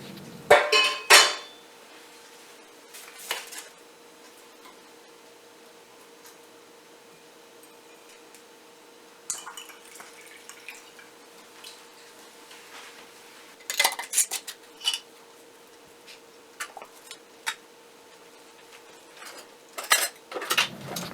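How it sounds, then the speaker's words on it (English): Glass jars of homemade dandelion jelly being closed with lids and screw rings: scattered sharp clinks and clattery knocks, with clusters near the start and again in the second half and quieter gaps between, no talking. "we're going to put lids on these and some rings to keep that lid on there good and tight"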